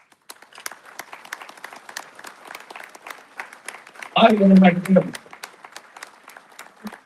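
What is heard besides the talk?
audience round of applause at gala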